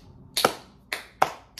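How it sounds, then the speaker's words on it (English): Slow, quiet golf clapping: three or four soft, sharp hand claps spaced about half a second apart, close and alone with no talking. "This is a golf clap"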